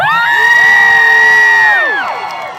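Convention audience cheering and screaming for actor Michael Cudlitz, a loud sustained roar led by high pitched shrieking voices, fading out toward the end, with no talk over it.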